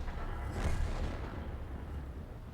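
Video game tank artillery shell fired and striking an enemy tank: a heavy booming blast swells up near the start and rolls into a rumbling, noisy tail with no talk.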